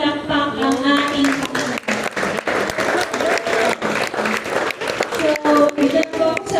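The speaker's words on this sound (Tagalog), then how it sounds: "Pwede po ba, bigyan natin ng malakas na palakpak ang ating" A congregation gives loud applause in a church service, a sustained wash of many hands clapping with voices speaking over it and brief dips in intensity.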